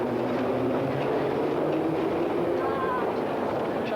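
A London Underground train rumbles steadily with a continuous low roar and faint rail squeal, loud and enclosed, with people talking in the background.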